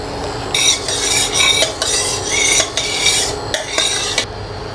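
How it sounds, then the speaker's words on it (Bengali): Mustard oil poured into a hot kadai, sizzling in bursts alongside several scraping stirs and clinks of a metal utensil against the pan, close and fairly loud. "কড়াইটা আমার গরম হয়ে গেছে, আমি দিয়ে দিচ্ছি একটু সর্ষের তেল।"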